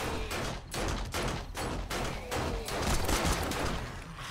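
Rapid automatic fire from a crude pipe machine gun in the zombie survival game 7 Days to Die, steady dense bursts with short gaps, close and loud throughout.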